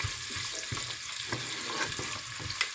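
Four cloves of garlic, sliced lengthwise, fry in a pan for tomato rice, giving a dense, even, close sizzle with soft periodic stirring scrapes throughout and no speech.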